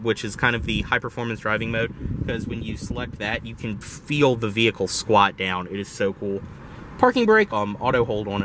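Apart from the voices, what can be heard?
None of the usual background noises is heard.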